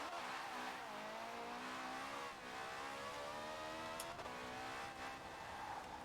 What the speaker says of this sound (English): I actually quite like the sound of this engine.